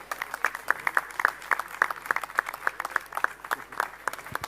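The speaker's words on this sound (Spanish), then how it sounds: "Por favor, pido un fuerte aplauso al doctor Gerardo." An audience claps for a doctor at a sports-and-health round table, a moderate crowd of distinct, rhythmic hand claps sounding steadily and fairly close throughout.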